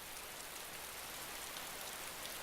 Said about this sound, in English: Pissing down the rain, isn't it?